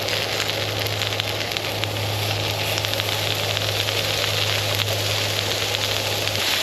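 Smoked garlic and caramelized onion butter sizzles in a pan at a tent campsite, a loud, steady hiss and crackle close by, with an even low hum beneath it.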